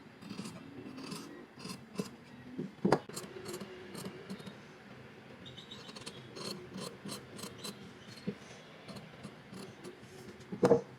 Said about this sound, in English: First, I cut off some extra length of the zipper